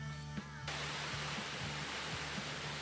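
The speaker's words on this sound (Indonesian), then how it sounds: "Suara deru air terjun yang terdengar seperti menggoda pengunjung untuk terus mendekat" A waterfall roars in a steady broadband rush of falling water, constant and fairly soft, with a low rhythmic hum beneath and a brief tonal sound at the start.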